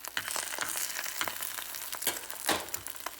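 A steady crackling sizzle of an egg frying in a pan for ramen, with soft pops and scraping, close and continuous.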